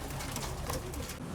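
Pigeons in a loft coo softly and repeatedly, some of the calls fairly close, over a low, steady background with no speech.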